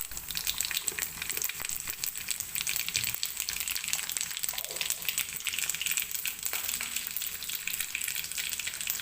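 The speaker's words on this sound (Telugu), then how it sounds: "ఇప్పుడు ముందుగా ఆవాలు జీలకర్ర వేసుకుని తాలింపులో శనగపప్పు, వెల్లుల్లిపాయలు కూడా వేసుకోవాలి" Mustard seeds, cumin, chana dal and garlic frying in hot oil for a Telugu tempering while bitter gourd fry is prepared at home, giving a steady, continuous sizzle with crackles throughout and no talk.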